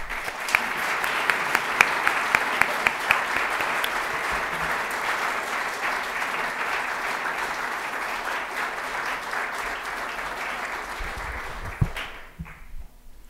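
A large audience applauds to welcome Dr. Larry Arnn, steady dense clapping with a few sharp claps standing out, sustained for about twelve seconds before tapering off.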